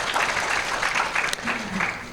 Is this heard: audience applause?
yes